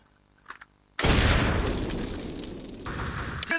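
Explosions and flak fire in an Xbox video game: a few small pops, then a sudden loud boom that roars on as a sustained rumble with crackling bursts near the end.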